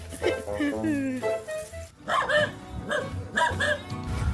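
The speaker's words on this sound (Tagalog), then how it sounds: "may mga aso nang ahabol" Dogs chase and bark on a steep, slippery slope leading down to a river. Several sharp barks come in short bursts during the second half, close and fairly loud, while people talk throughout.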